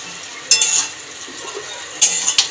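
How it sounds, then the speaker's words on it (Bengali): A spoon scrapes and stirs fig curry gravy in a pan after the lid is lifted, with two short bursts of clinking and scraping separated by a quieter simmering pause. "ঢাকাটা খুলে মাঝে মাঝে তো নাড়াতেই হয় নালে তো নিচে লেগে যাবে"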